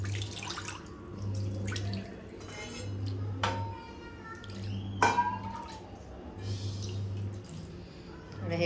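Water is poured and splashed during cleaning of a gas stove, with intermittent clinks of metal parts and a low steady hum underneath; someone speaks at points.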